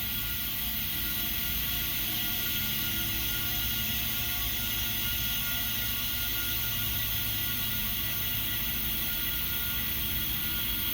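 A vacuum chamber pump pulls a vacuum for degassing resin, giving a steady, continuous mechanical whir and hum that stays even and moderately loud throughout, with no voices.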